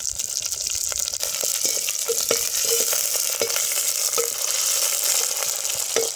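Curry leaves with dried red and green chillies crackling and frying in hot oil, a steady dense sizzle with sharp spattering pops and occasional stirring scrapes, close and loud throughout.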